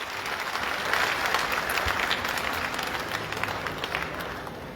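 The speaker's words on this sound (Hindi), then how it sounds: "तो एक बार सभी महिलाओं के नाम पर भाई आप लोग सभी लोग ताली बजा के स्वागत करिए।" Large audience at a party gathering in Talkatora Stadium, New Delhi, applauding to welcome women, a steady, dense wash of clapping hands that holds at full strength for several seconds with little talk.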